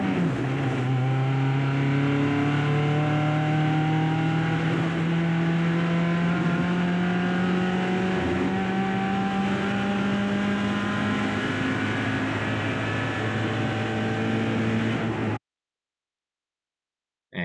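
Onboard engine roar of a race car at high revs on VIR North track, loud and continuous, with steady rising and falling pitch as it accelerates and shifts, then abrupt silence.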